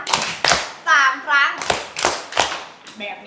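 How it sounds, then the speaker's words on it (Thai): Kindergarten-style hand clapping by young children in a Thai primary school class, several sharp, close claps in a loose rhythm, with a voice and a teacher's speech between them. "ปรบมือแบบอนุบาลหนึ่งครั้ง"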